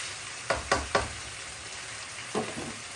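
A spoon stirs a sauce of oyster sauce and pepper in a pan over a soft sizzle, with a quick cluster of three scraping knocks followed by a couple more after a pause.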